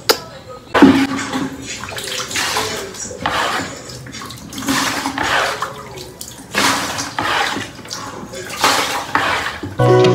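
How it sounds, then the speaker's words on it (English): Water being cleared off a flooded floor with a bucket in a Lagos home: repeated sloshing and splashing bursts with scraping and clattering, loud and close, in irregular surges with short pauses. "I'm just going to stand up and clear off the water"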